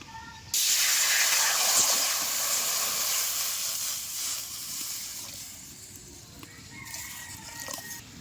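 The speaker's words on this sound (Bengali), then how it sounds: "এবার এই সিমের বিচিটা সিদ্ধ করার জন্য কড়াইতে দিয়ে দেব আমি জল।" Water poured into a wok over a lit stove to boil broad bean seeds, a loud sudden hiss and sizzle that starts abruptly, holds steady, then slowly fades into softer bubbling and crackle.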